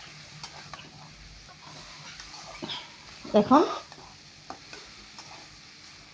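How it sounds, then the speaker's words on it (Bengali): Maggi noodles stir-fried with onion and chili in a wok, with a short burst of scraping and sizzling midway and quiet frying around it while a voice talks. "সব এর সাথে উপর নিচ করে পেঁয়াজ মরিচের সাথে আমি এটা ভেজে নেব।"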